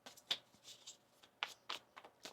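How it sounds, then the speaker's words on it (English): Tarot cards being shuffled by hand, a series of quick soft riffling flutters and snaps in irregular bursts, close and quiet. "One more shuffle here."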